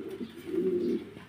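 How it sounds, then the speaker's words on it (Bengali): A pair of pigeons of a fancy breed kept for sale coo once in a low, throaty, rolling call that swells through the middle and fades, close by with no talk. "এখানে আরেক জোড়া কবুতর আছে।"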